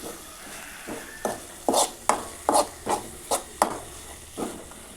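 Cooked tomatoes are squeezed and mashed by hand, giving a series of about nine soft, wet squelching bursts in a loose rhythm, close and fairly clear against a quiet background.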